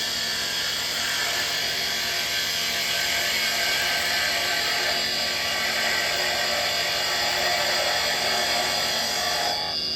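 A spindle gouge cuts spinning wood on a lathe, a steady close hissing, scraping drone of the cut running continuously under the motor hum, without speech.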